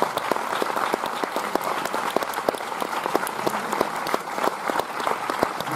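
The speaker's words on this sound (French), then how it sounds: "mes deux numéros 1 que je vous demande d'applaudir" Audience applause for the two lead actors at a film premiere in Paris, a dense, steady clapping from a full room with sharp individual claps standing out, lasting throughout with no talk.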